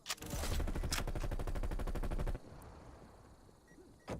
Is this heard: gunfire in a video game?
yes